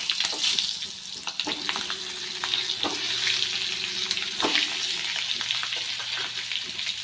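Brinjals go into a hot pan for a traditional stuffed brinjal curry and fry with a loud, steady sizzle. Scraping stirs and clicks recur close up throughout, with no talking.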